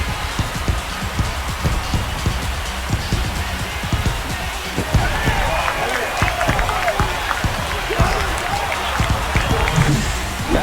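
A stadium crowd roars after a home run in MLB The Show 25, Milwaukee Brewers versus Cincinnati Reds, with sustained cheering and clapping that swells partway through. Broadcast commentary runs over it.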